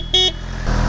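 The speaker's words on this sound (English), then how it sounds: "I have to honk my horn." A BMW M1000RR motorcycle horn gives one short, loud, close honk lasting about a fifth of a second, followed by low engine rumble.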